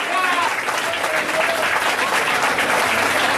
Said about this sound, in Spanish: fuerte el aplauso para Valentina Frías